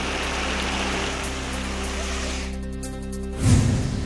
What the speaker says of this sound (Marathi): सिंधुदुर्ग जिल्ह्याच्या दोडामार्गमध्ये जोरदार पावसाची हजेरी.